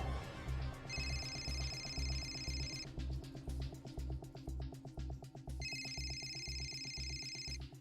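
A telephone rings in two separate electronic bursts over a steady background rhythm, fairly faint overall.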